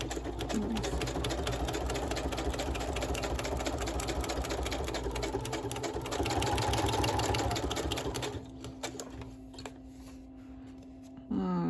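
Sewing machine stitching a zigzag on a handmade Christmas advent tag, a steady close mechanical whir with rapid needle clatter running continuously, easing off into quieter intermittent stitching near the end.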